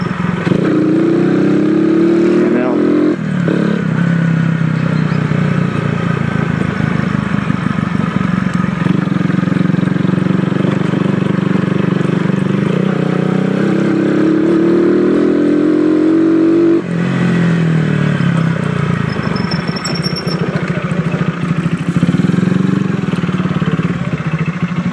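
An E100 ethanol-converted motorcycle engine runs loudly and steadily for the whole stretch, with slow revving swells that rise and fall as the throttle opens, picking up speed only gradually.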